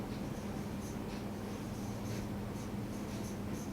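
Pen writing a cash-account journal entry on paper: faint, sparse scratching strokes over a quiet, steady room hum.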